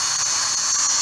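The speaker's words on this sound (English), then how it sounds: "the importance of drilling pilot holes" A drill bores a pilot hole into soft, brittle Florida pine, giving a high, steady whine that is close and loud over the short stretch, with no talking.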